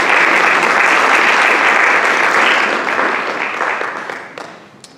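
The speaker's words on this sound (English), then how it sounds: "we'll give her a round of applause" A crowd at a high school senior awards ceremony breaks into loud, dense applause for an absent scholarship recipient, steady at first and then thinning and tapering off over the final seconds.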